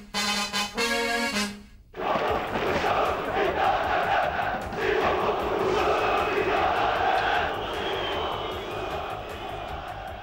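Football stadium crowd in 1990s Turkey roaring and chanting at referees, a dense sustained wall of massed voices after a brief opening burst of rhythmic shouting.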